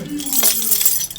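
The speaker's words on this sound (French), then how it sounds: "Il a plusieurs clés dans son trousseau de clés" A bunch of keys on a key ring jangles briefly during an apartment fire rescue, giving a quick, close metallic rattle that is partly mixed with a voice.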